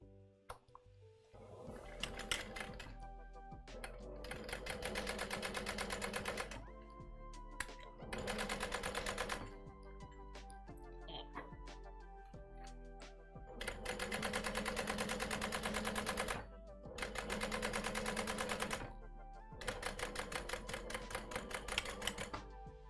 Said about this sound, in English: this isn't final, so I'm backstitching